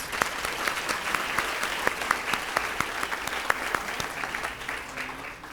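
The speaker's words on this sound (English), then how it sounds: "So round of applause for everyone who had a hand in this." Steady applause from an audience at a school district student awards ceremony, a dense wash of many hands clapping at even strength throughout and fading slightly toward the end, with no voices on top.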